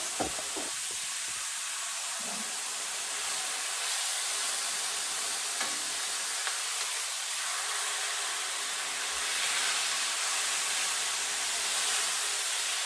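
Black pepper chicken thighs sizzling in a frying pan, a steady, even hiss of frying throughout with faint clinks and stirring sounds, no talking.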